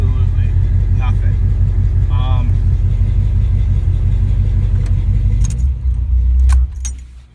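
A Chevelle's engine rumbles loud and close with a deep, steady throb and a slight rise in pitch, then settles and fades near the end, while a voice is briefly heard over it.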